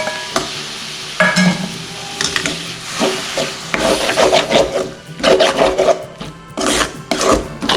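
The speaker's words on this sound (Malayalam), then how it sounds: "തക്കാളി പേസ്റ്റ് ഇത് കൂടി ചേർക്കും." Blended tomato paste is stirred and fried in a pan while making Kerala-style beef roast gravy, with scraping strokes and a steady sizzle in loud, uneven bursts.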